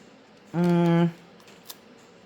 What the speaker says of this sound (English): I'm actually going to put this tape on my stone first.